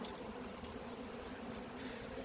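Wild bees being transferred by hand into a beehive, heard as a dense, continuous buzzing drone close by, with no talk.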